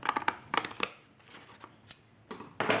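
Scissors snip through sketchbook paper on a tabletop in quick clusters of crisp, close cuts separated by short pauses.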